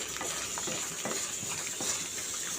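Amaranth leaves cooking with green chili paste and a little turmeric in a pan give a steady, close sizzle with soft scraping stir strokes repeating throughout.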